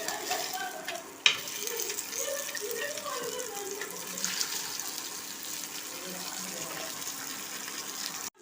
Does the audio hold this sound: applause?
no